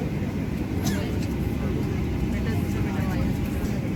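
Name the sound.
inside an airplane cabin before takeoff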